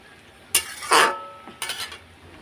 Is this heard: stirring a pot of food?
yes